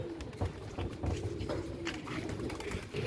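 Pigeons kept in a cattle shed give soft, low, repeated coos against faint background noise, fairly quiet and close.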